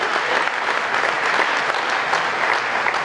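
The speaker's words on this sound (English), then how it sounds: "Round of applause for Commander LaBarbera and all of his fellow fighter fighters." Steady, full applause from an audience at a barbecue fundraiser, honoring a fire commander and his firefighters, continuous and even throughout with no talking.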